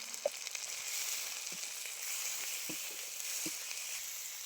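Ground spice paste hits hot oil with fried ginger, garlic and onion for a jackfruit and rohu fish dish, hissing in a quiet, even sizzle broken by a few soft stirring taps.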